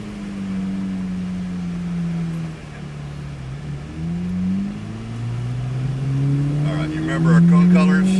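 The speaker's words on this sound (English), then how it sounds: "We are in a Z06 Corvette, black 86" A black 1986 Chevrolet Corvette Z06 accelerating around Hedge Hollow Raceway in Adrian, Missouri, its engine note steady and droning with pitch rising and falling through gear changes, loud and close from inside the cabin while people talk over it.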